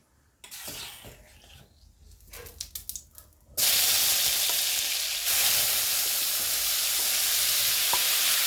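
Pineapple pieces for chutney hit a hot pan after chillies were fried, giving a sudden loud, steady sizzle that holds to the end, preceded by a few seconds of quieter clatter and stirring.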